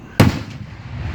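One loud firework bursts with a sharp boom at a 2019 display in Union City, Tennessee, followed by a rumbling tail that fades over a low background murmur.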